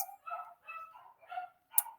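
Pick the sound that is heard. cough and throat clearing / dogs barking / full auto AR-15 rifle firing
dogs barking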